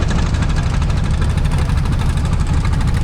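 A trawler boat engine runs on the Nikli haor wetland, a loud, steady close-up drone with a fast rhythmic throb and no talking.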